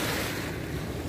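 Strong current of water crashing down at an overflow, a loud, dense, continuous rushing roar heard close up with no talk.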